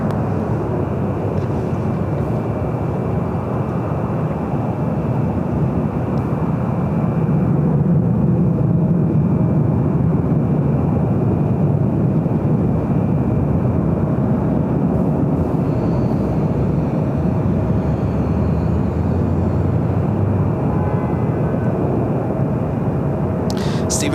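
A Southwest Airlines Boeing 737-800 takes off at Los Angeles LAX, a steady, broad jet roar that holds loud and constant throughout, with faint voices now and then.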